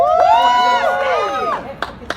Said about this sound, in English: Clap it up for her, man.